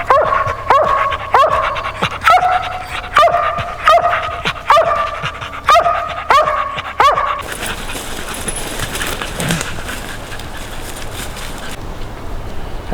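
Hunting hounds, a young dog and Blaze, bay on the trail in a rhythmic run of repeated barks. The barking fades after about seven seconds, leaving a bed of outdoor noise.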